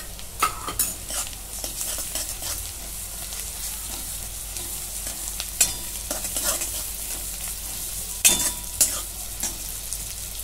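Onions frying until reddish with a spoon of ginger-garlic paste in a pan for pav bhaji, a continuous sizzle with bursts of stirring and clinks of a spoon against the pan, close by and without speech.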